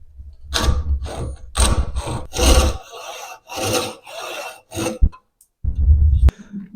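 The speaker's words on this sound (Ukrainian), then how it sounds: "І відрізаю вимірений кут." A hand saw cuts a measured angle in wood while making a dovetail marking tool. Close, rhythmic back-and-forth rasping strokes come in a run of about seven bursts with brief pauses, and no voice is heard.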